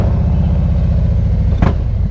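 Idling rumble of a 2019 Harley-Davidson CVO Street Glide motorcycle, a loud, steady low-pitched throb close by, with a brief revving surge near the end.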